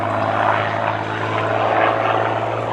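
Ilyushin Il-2 Sturmovik, a heavy six-ton WWII ground-attack plane with a 1,720-horsepower V12 engine, drones steadily at an airshow, a loud continuous propeller-engine roar with a deep low hum throughout.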